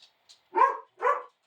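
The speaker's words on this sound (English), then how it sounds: "Dogs are going crazy and barking." Two loud barks from a dog close by, about half a second apart, with a couple of faint high yips just before them, heard during a garage tool review.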